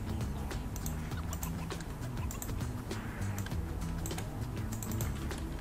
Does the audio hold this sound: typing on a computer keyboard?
yes